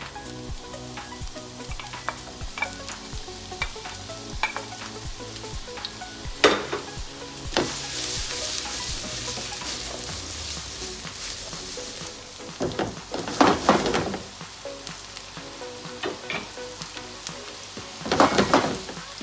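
Onion and carrot sizzle steadily in olive oil in a pan, with loud stirring scrapes and clatters breaking through at several points.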